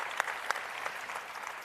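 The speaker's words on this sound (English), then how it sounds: "Let's give him a round of applause for that." Brief applause from an audience at a political forum on big ideas, a quiet, short patter of clapping with a couple of sharper claps standing out.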